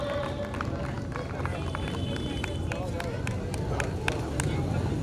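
Crowd clapping for children on stage at an outdoor folk art festival in Jhansi, a sustained round of applause with sharp individual claps standing out and people talking underneath.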